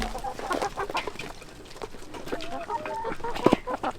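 A flock of about thirty laying hens in a large run, a close, busy chorus of overlapping clucks and short squawks, with one louder call near the end.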